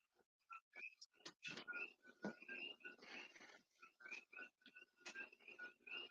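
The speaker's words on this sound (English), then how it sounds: "Let me see if I can quiet these frogs down. They're kind of loud tonight." Frogs croak loudly at night, with repeated overlapping calls, some near and some further off, forming a steady chorus without talk.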